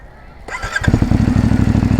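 A 2024 CFMOTO 450MT motorcycle cranks briefly and fires up, settling straight into a loud, close, rapid idle thrum with a steady pulsing beat.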